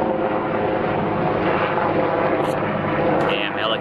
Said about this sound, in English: Is that a freaking Apache?